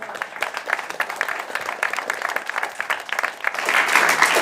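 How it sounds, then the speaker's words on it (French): An audience at a stage event applauds a performer, a steady dense patter of many hands that swells louder toward the end. "On peut encore l'applaudir s'il vous plaît"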